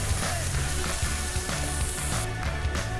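Philly cheesesteak meat and melted cheese simmering in a pan, a steady soft sizzle with faint crackles, close and continuous without talk.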